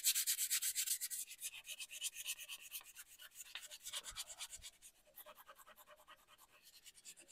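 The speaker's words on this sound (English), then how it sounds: "let me quickly rub that down" Flat car body panel rubbed down by hand gives a steady, rhythmic back-and-forth scratchy rubbing, close and fairly quiet, repeating about twice per second with no talking.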